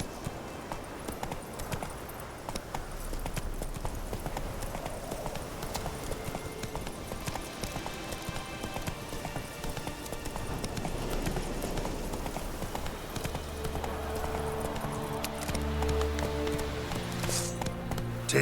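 Roach the horse gallops in the Witcher 3 video game, with a steady rapid clip-clop of hooves running throughout over ambient game sound and music that rises near the end.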